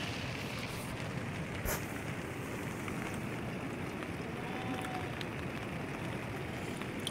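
Heavy rain drums outside a tent at Vishansar Lake, a constant dense patter that stays even and fairly close throughout, with no voices.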